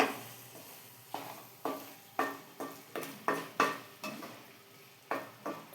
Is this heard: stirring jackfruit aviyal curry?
yes